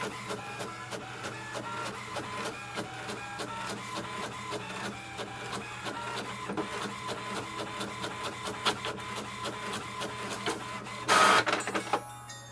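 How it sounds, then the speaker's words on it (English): An HP Envy Pro 6432 inkjet printer prints a page, ticking in a steady rapid rhythm over a constant motor hum, then ending with a brief louder whir as the sheet feeds out. "once the printer prints it, that means it is connected to the Wi-Fi network"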